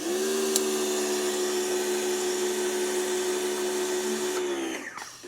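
Yeryork electric pressure washer spraying with a 15-degree nozzle for cleaning driveways, a loud steady motor whine and hiss that holds evenly for about four and a half seconds, then cuts off abruptly.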